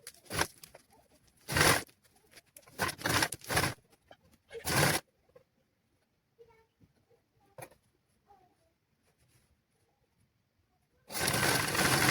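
A tailoring sewing machine stitches fabric for a child's garment in several short rattling bursts, goes quiet for a stretch, then runs again in one longer close burst.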